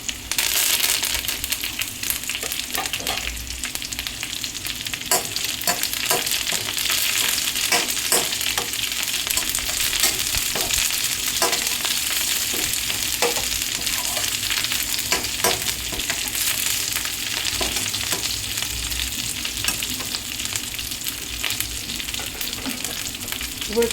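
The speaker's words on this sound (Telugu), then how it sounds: "కరివేపాకు వేసుకోవాలండి" Curry leaves crackle and sizzle in hot oil for a pulusu of okra, with steady frying hiss and repeated light clicks of a spoon stirring the pan, close and continuous with no talk.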